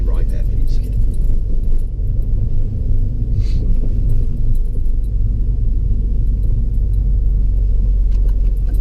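Low, steady car engine rumble inside a vehicle during a driving lesson at a junction and roundabouts, continuous throughout with an instructor talking over it.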